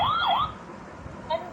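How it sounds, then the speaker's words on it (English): An electronic police car siren from a children's talking picture book gives a short wavering wail, rising and falling once before cutting off, then a brief second chirp, thin and toy-like. "Police car."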